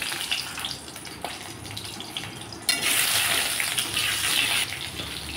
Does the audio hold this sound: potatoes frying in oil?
yes